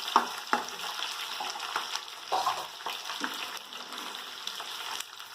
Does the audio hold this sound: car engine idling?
no